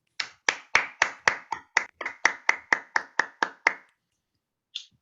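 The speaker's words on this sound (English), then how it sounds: "I want you to give Group 1 your loudest applause" A group applauding in unison during a presentation skills course, giving about fourteen sharp, rhythmic, evenly spaced claps close to the listener, then a pause and one lone clap at the end.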